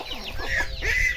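Pet chickens at feeding time on a rural Philippine farm give a couple of close, soft clucks and brief calls in quick succession.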